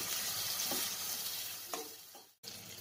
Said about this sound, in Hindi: अब हम इसमें डालेंगे एक बारीक कटा हुआ टमाटर और 2 मिनट के लिए हम इसे भी इसी तरह से हल्का सा सॉफ्ट होने तक फ्राई करेंगे